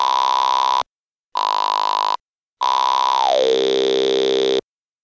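A Waldorf Blofeld synthesizer speech patch plays three loud buzzy tones separated by silences, and in the last one the cutoff frequency is lowered so the tone darkens partway through.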